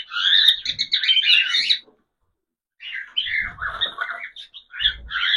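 Pet cockatiel squawking excitedly at food, harsh, loud, close calls in two bursts separated by a short silence, with no voices.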